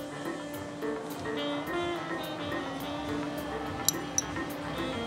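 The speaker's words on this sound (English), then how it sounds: "We're just gonna give that an extra stir to blend all the flavors together." A gin and tonic made with classic Indian tonic is stirred in a glass, giving two brief, light clinks over a steady low background hum.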